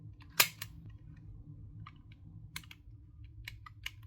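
Safety or fire-mode switch on a Crosman CM9B Mako airgun being flicked: one sharp, close click followed by several lighter scattered clicks, over a low steady background hum.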